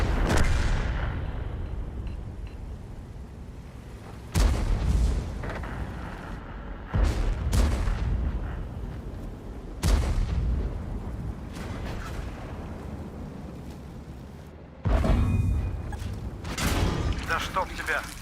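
Heavy tank cannon shots from a video game, several loud booming blasts spaced several seconds apart, each decaying into rumble, with a voice talking between them.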